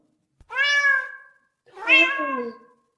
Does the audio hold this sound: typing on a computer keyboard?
no